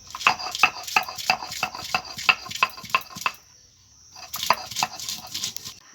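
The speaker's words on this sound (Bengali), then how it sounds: "লঙ্কা আর রসুন বেটে নিয়েছি" Green chilies and garlic are ground on a stone for leaf fritters, giving a run of regular, close grinding knocks and scrapes, a short pause, then more strokes, with no talk.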